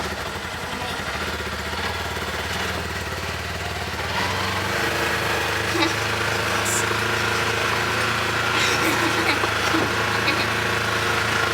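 A Polaris Ranger Premium 1000 utility vehicle engine runs as a steady, close mechanical drone. Its pitch climbs a little after a few seconds as the machine moves off.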